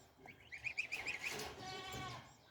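A goat shut in a cage bleats a few times in quick, wavering calls, moderately near and fairly quiet, followed by a softer trailing bleat with faint background noise.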